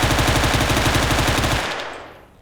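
Automatic pistol firing in a S.T.A.L.K.E.R. game, a loud, fast, evenly spaced stream of close shots for about a second and a half, then an abrupt stop and a short fading echo.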